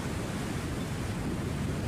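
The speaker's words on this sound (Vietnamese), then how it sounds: "ra đây gió nó dập mình rất dữ luôn các bạn" Strong wind buffets a rocking fishing boat out at sea, a steady broadband roar of wind and surf with no letup, close and fairly loud throughout, with no voices.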